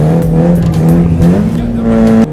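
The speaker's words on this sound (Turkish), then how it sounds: "Tünele girince bir iki kamerasını alıp şöyle boş gaz bassana" Truck engine in Euro Truck Simulator 2, revved in a tunnel: a loud, steady low engine drone with rising pitch as the throttle opens, continuous and close, with faint speech beneath.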